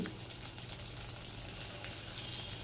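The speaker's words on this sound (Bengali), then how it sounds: "ব্যাস দুটো দিয়ে দিলাম ওই একই রকমভাবেই ভেজে নেব" Paneer snacks frying in hot oil in a pan, a steady soft sizzle and crackle with a few faint pops, heard close and alone without any talking.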